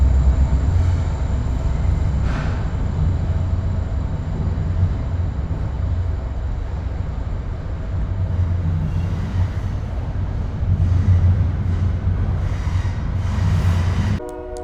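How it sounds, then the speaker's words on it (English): A train rumbles continuously close overhead, heard from inside a drain pipe beneath the tracks, a heavy low roar with clattering wheels that swells and holds for the whole stretch, no voices. "Yeah, the train is going over the top of me right now."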